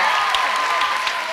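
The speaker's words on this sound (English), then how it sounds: "can you give everyone an outstanding, resounding applause?" Audience at a middle school promotion ceremony applauding, a loud, dense wash of clapping from a large crowd, steady throughout with some background voices mixed in.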